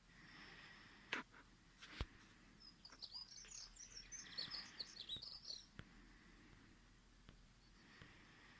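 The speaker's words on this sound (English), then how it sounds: "Some other singing birds, but when she sings, she has a most beautiful song." A songbird sings a bright, warbling phrase in the middle, faint and somewhat distant, with a few sharp clicks and soft rustling around it.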